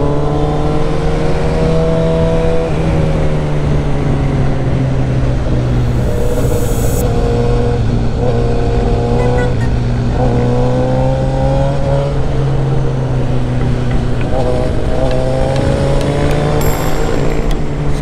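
A Suzuki GSX-S 1000 motorcycle with reflashed fueling is ridden hard, its engine note climbing in pitch, dropping at each gear change and climbing again in repeated loud waves over constant wind and road rumble.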